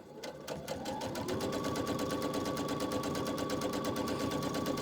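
A sewing machine stitches a quilt for a stitch-and-flip block, with the needle running just inside a drawn line. It is a steady, rapid, close-up mechanical stitching that starts within the first second and then runs evenly throughout.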